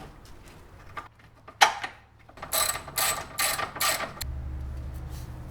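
Ratchet wrench tightening the bolt on a ball joint bushing of an MK4 Golf, a run of five quick close clicking bursts after a few faint knocks, with no talk.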